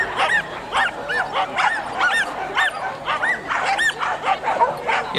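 A dog at an agility championship's mini course barks and yips repeatedly in quick, uneven bursts. The bursts are close and loud over a busy competition background.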